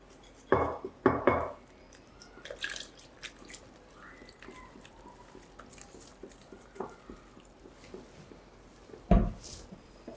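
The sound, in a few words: mixing wet and dry pancake batter ingredients in a bowl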